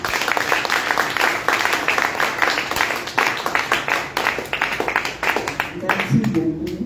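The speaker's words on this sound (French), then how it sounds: "applaudissez pour vous" An audience at a Togolese political rally claps, a loud, dense burst of many hands that keeps going and thins near the end, with voices in the crowd and talk mixed in.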